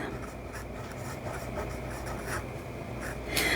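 A fountain pen with a scythe-shaped nib scratching across paper, a soft continuous scratchy rub of strokes, close and quiet over faint background hiss.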